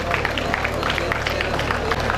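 Applause from an audience at a statue unveiling ceremony for a founder, a steady dense patter of many hands clapping amid crowd hubbub, fairly loud and continuous throughout.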